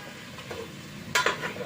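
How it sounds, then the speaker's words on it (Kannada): Marinated chicken coated in masala fries quietly in hot oil with tempering, under a faint sizzle, followed by a brief, brighter scrape of stirring near the end. "ಈಗ 1 ನಿಮಿಷ ನಾನು ಒಗ್ಗರಣೆಯಲ್ಲಿ ಫ್ರೈ ಮಾಡ್ತಾಯಿದ್ದೀನಿ ನೋಡಿ"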